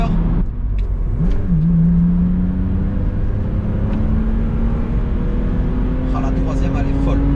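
BMW Z4 E85 roadster engine pulling hard through its six-speed gearbox, revs climbing steadily toward the limiter with a brief dip at a gear change, loud and close from inside the car with a voice speaking over it.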